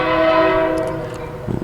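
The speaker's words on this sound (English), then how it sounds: "excuse the trains coming by" A passing train sounds its horn as a long, loud, tonal blast that slowly fades, with rumbling rail noise underneath and a few clanks near the end.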